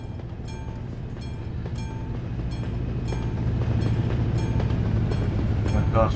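A train rolls past a railway crossing in Euro Truck Simulator 2, a steady low rumble with faint rhythmic wheel clicks that swells slightly louder as the cars go by, with no talking.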